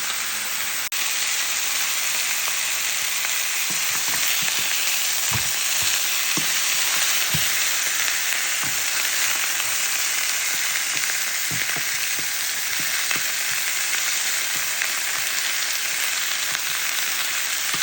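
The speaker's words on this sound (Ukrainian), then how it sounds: "Головне наше завдання просмажити коринку." Steady, dense sizzling of chicken frying in a hot pan, with occasional faint pops and clicks, continuous throughout with no talking.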